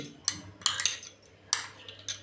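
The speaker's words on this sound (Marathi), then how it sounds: "चला पहिले हे तूप आहे ना एका वाटक्यामध्ये काढून घेते" Ghee spooned into a small bowl while making wheat-flour nankhatai biscuits, heard as a few sharp metallic clinks and taps of a spoon against the bowl, spaced irregularly with a low hum underneath.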